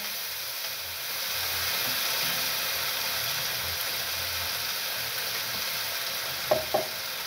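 Mukimo being stirred in a cooking pot, a steady soft scraping and sizzle that runs the whole time, with two brief knocks near the end.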